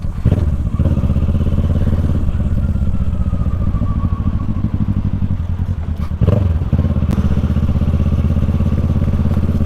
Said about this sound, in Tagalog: Tapos i-check yung motor